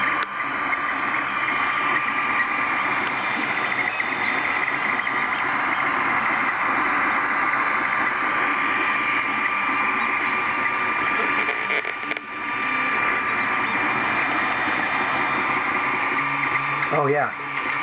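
An Ender 3 3D printer printing white PLA with no heated bed hums and whirs steadily up close for a long stretch, its motors making a continuous buzzing drone with small shifts in tone.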